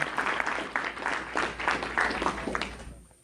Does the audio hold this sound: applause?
yes